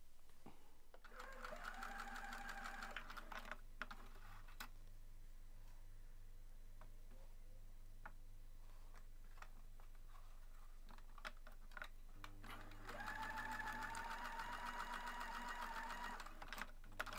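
A sewing machine over-sewing the edge of a longline bra runs in two quiet, steady whirring bursts at the start and end, with soft clicks and faint handling noise in between and no voices.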